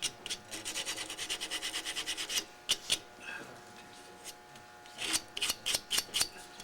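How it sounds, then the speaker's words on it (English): Sanding a small turned wooden ornament by hand with 150-grit sandpaper, giving quick rhythmic rasping strokes in a steady run, then a pause and a few more scratchy passes, close and fairly faint with no talk. "It doesn't take too much sanding. That's a little 150."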